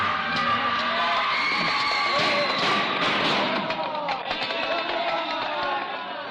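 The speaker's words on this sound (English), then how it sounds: "A screaming, hysterical mob sweeps through the streets, driven on by the lashing whips of the mounted police." Dense, agitated crowd noise from a screaming, hysterical mob surging through city streets, with shouting, whoops and scattered thuds blending into a constant loud roar throughout.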